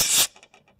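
Compressed air blasts debris off a 3.5 HP Tecumseh mower engine in one short, loud hissing burst that cuts off abruptly, followed by faint rattling.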